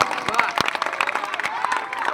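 Scattered, uneven clapping from a crowd at a Jan Suraaj political rally, individual sharp claps standing out against a busy background of murmuring voices.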